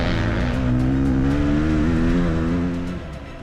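A 500cc two-stroke motorcycle on a fast race lap, its engine screaming high and close as the pitch climbs under acceleration, then easing off near the end; no talk.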